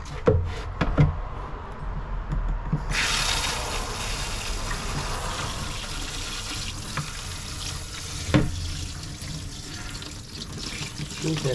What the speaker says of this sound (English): I'm going to give her a good rinse and set her up to dry.